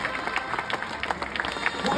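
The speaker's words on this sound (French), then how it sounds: "Et on l'applaudit bien fort." A crowd gathered at a poolside finale applauds, steady clapping with some murmur of voices at moderate distance, with talk in the mix.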